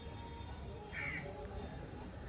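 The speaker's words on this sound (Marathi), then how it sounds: "काय रे कावळे दादा, का ओरडतो एवढा?" One short, hoarse crow call rises briefly from a faint, steady background hum, fairly near.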